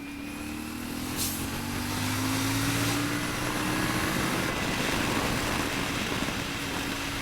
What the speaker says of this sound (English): Engine just pulls beautifully.